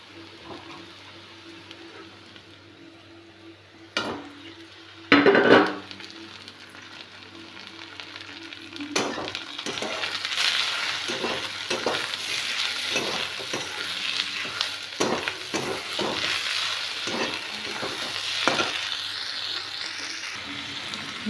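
Chopped tomato is dropped into a pan of onions fried until reddish, giving a loud hiss that settles into a steady sizzle. Occasional stirring scrapes sound throughout, and no one speaks.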